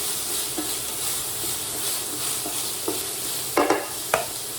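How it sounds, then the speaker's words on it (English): Peppers sizzle steadily in a pan while being stirred. A few sharper scrapes and clinks of the utensil come near the end. "Let me stir my peppers."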